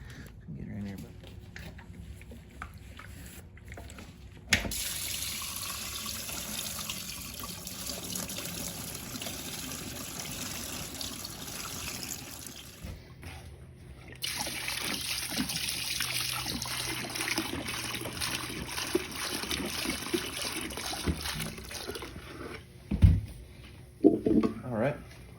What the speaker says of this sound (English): put this thing in the parts washer, let it soak for a couple hours